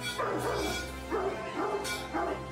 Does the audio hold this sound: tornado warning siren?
no